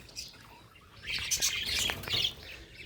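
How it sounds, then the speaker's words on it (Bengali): Pet lovebirds in a small colony chirp and tweet outdoors in morning sun after heavy rain. Quick bright calls cluster in the middle and fade toward the end, at moderate distance and fairly faint. "এই হচ্ছে আমার কলোনির উপরের পাখিগুলো"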